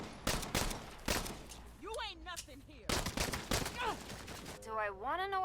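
Sharp bursts of rapid gunfire crack in clusters in the video game Saints Row, mixed with chirping electronic effects and voices talking over the action.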